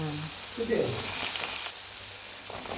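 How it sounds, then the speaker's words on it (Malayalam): Carrot and capsicum fry in hot garlic in a pan with a loud, steady sizzle and a brief stir partway through. A voice is heard faintly at the start. "വെളുത്തുള്ളി ഒന്ന് ചൂടായിട്ടുണ്ട്. നമുക്കതിലേക്ക് ഇച്ചിരി ക്യാരറ്റും ക്യാപ്സിക്കവും"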